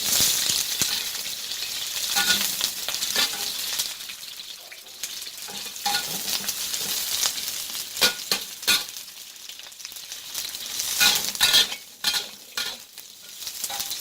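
Onions frying in a pan, a continuous close sizzle broken by frequent clinks and scrapes of stirring, with louder bursts of activity toward the end and no talking.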